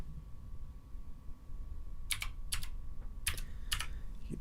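Keys on a computer keyboard being typed in a few short bursts over steady background hum, close and fairly crisp, with brief pauses between the clusters of clicks.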